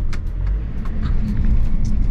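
A vehicle fitted with newly installed SumoSprings drives slowly around the block, a steady low engine rumble and road noise heard from inside the cabin, with a few light rattles and no talking.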